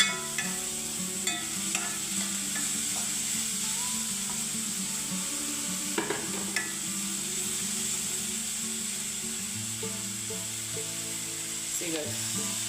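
Onion frying in a pan for a Mangalore neer dosa and prawn curry, a steady close sizzle with scraping stirring clicks and faint background music or voices throughout.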